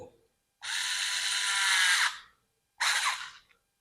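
Electric power tool driving a wire terminal screw on a household switch board, two bursts of steady whirring, a long run of about a second and a half then a shorter one, close and fairly loud.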